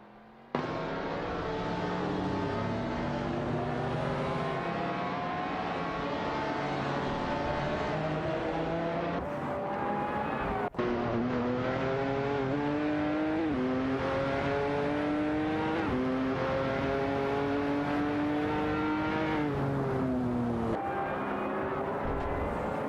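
Video game race cars, including a Lamborghini Asterion and a Ford GT, with several engines droning and revving continuously, rising and falling in pitch through gear changes, no talking.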